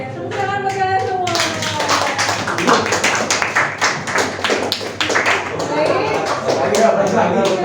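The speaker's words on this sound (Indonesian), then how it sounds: "Oke, tepuk tangan bagi kalian semua." A group claps hands in a classroom group-counseling sociodrama session, a dense burst of quick, uneven claps that starts after a moment and carries on strongly, with voices mixed in.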